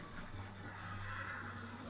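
A horse neighs in a drama scene, a faint, drawn-out whinny with a steady low hum beneath it, heard alone without talk.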